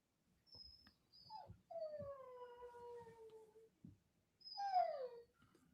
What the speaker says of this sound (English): Do I hear a dog?